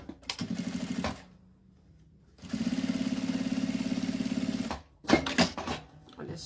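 A sewing machine topstitches a seam along a fabric wallet lining in two steady runs, close and fairly loud, separated by a pause, followed by a few short handling knocks.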